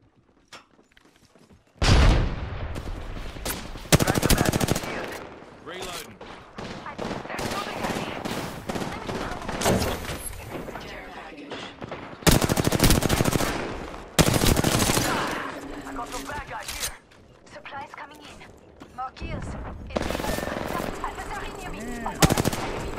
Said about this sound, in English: Joker's shooting at me.